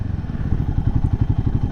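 A Royal Enfield Himalayan 450 motorcycle engine thumps along at low revs in a fast, even pulsing beat, loud and close, with no talking over it.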